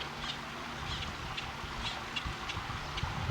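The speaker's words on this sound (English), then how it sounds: "Can you hear the birds?" Busy birds chirp and squawk repeatedly in the background over a steady outdoor hum.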